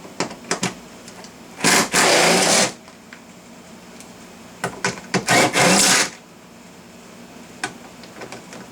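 A power driver removes 10mm bolts from under the rear spoiler of a 2017 Honda Civic Hatchback. Two loud buzzing bursts of about a second each stand out, with scattered small clicks and handling noises between them.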